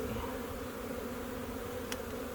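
Honey bees buzz in a steady, dense drone during a beehive inspection, the hum close and continuous, with a brief faint click near the end.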